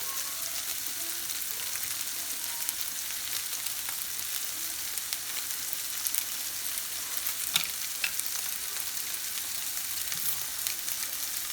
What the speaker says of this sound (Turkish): Zaten bakın kızarmalar başladı sotelenmeler.